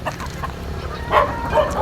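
A breeding gamecock rooster gives a couple of short, throaty clucks against a noisy outdoor background, fairly close.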